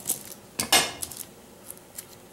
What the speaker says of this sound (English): We're gonna get them roughly chopped too